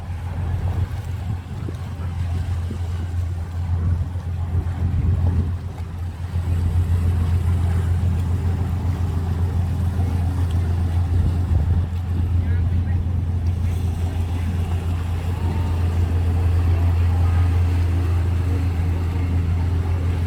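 A river cruise boat's engine drones in a steady, loud, continuous low hum for a long stretch, with voices faintly in the background.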